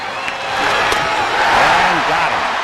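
Baseball stadium crowd on its feet during a tense 0-2 count in a Braves game, a steady roar of cheering and applause at high level, swelling slightly and sustained throughout, with no clear single voice.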